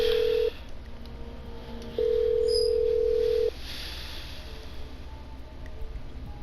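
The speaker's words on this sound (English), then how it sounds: "I'm dialing. One moment." Telephone dialing in the video game Killer Frequency, heard as a short steady tone, a pause, and then a longer sustained tone over low background hiss, with no talking.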